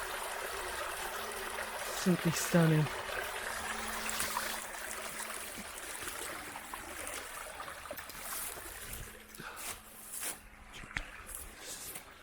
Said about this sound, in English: look at this, running water